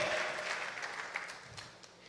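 A church congregation applauds, a soft, fairly distant patter of many hands that fades gradually, with faint cheering and no clear talk.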